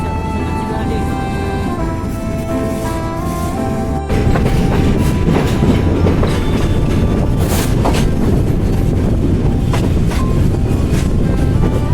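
The Chilahati Express intercity train runs through Mirzapur station without stopping, heard as a loud, steady rumble with rail clatter and wind buffeting. The roar jumps sharply in level about a third of the way through and stays dense.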